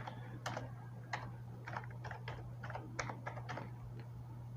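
Keys on a computer keyboard are tapped one at a time while a password is typed in, a dozen or so crisp, uneven clicks over a steady low electrical hum.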